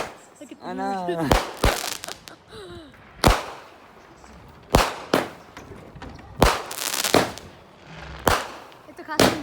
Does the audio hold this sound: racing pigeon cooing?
no